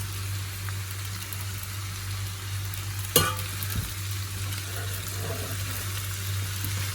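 Cooked macaroni with chicken being stirred in a pan, a steady low sizzle running throughout with one brief sharp scrape of the utensil midway and faint clinks after it.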